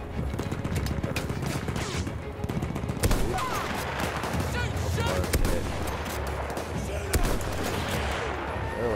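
Rapid gunfire in the video game Battlefield 1, dense bursts of rifle and machine-gun shots with heavier blasts, continuous and loud, with a player talking over it.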